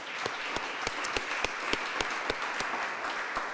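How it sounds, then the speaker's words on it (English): An audience at a conference closing panel on citizenship education and EU policy applauds steadily, a dense wash of clapping with sharp individual claps standing out, sustained and fairly loud throughout, with no one speaking over it. "Let's give him a big round of applause for his opening statement"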